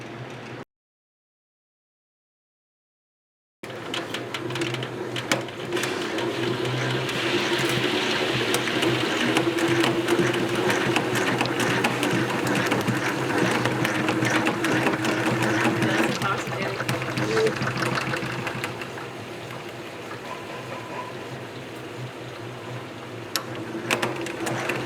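A flip-style honey extractor that requires turning the frames back and forth runs in a kitchen with a steady mechanical whirring and rattling hum after a brief silent gap at the start.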